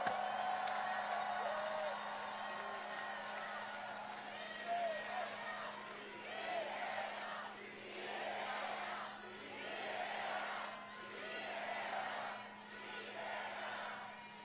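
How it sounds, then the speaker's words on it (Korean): A crowd at a political campaign rally in Namyangju and Guri, South Korea, cheers in repeated rhythmic swells, rising and falling in chant-like bursts over a steady background hum, fairly distant and moderate in level. "혁명의 동지들에게 한번 격려의 박수, 축하의 박수 부탁드립니다"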